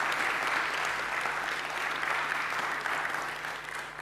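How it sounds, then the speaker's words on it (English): A conference audience at DappCon gives dense, sustained applause after a talk, a continuous wash of many hands clapping that tapers slightly toward the end. "can we have a round of applause for his enlightening talk?"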